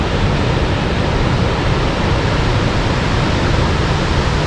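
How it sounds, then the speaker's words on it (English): Manitou Falls in Wisconsin, a large waterfall roaring as a loud, dense, unbroken rush of falling water that stays constant throughout, with no voices. "The largest waterfalls in Wisconsin. You're looking at it right now."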